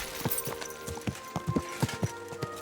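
Horse hooves clip-clop in the medieval video game Kingdom Come: Deliverance 2, a series of uneven close hoofbeats over a faint steady background hum, fairly near and moderately loud.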